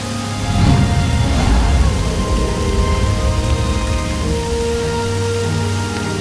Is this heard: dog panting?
no